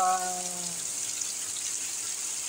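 Heavy rain pouring down in Saudi Arabia, a steady hissing wash of falling water that fills the scene, with a brief voice-like tone at the very start.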